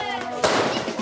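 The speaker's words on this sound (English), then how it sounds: "Kids are setting off fireworks in the Medina." Fireworks set off by kids in the medina of an old city, a sharp loud crack arriving midway through the clip with a crackling, rumbling tail.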